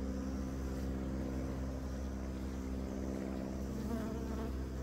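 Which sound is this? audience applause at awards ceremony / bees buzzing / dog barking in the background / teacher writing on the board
bees buzzing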